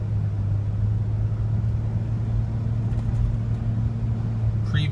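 A Toyota 4Runner Sport Edition accelerating on the road, a low steady engine drone heard from inside the cabin with a constant rumble and no sharp changes in pitch.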